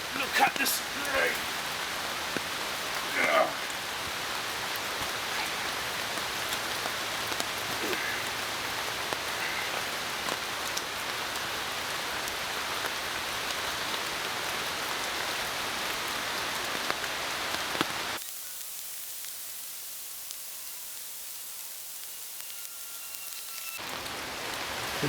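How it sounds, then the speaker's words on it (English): Heavy rain falls outdoors in the wild, a dense, steady hiss of drops that continues throughout and grows quieter and thinner near the end, with a few louder knocks early on. "Look at this rain."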